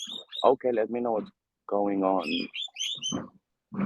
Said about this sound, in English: now we heard the really noisy birds in the background